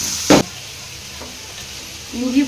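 Ginger garlic paste sizzles with onions frying in a pan, a steady bright hiss broken by a sharp clatter near the start, with a brief voice near the end.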